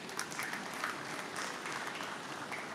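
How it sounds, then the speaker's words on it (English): Graduates and guests at a university doctoral hooding ceremony give a round of applause, dense continuous clapping from a large crowd at moderate, even volume throughout. "I'd like you all to give yourself a round of applause"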